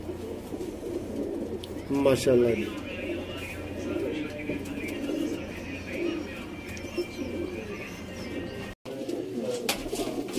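Black-faced Sialkoti pigeons coo softly and repeatedly nearby while someone talks over them, with a brief burst of calls early on.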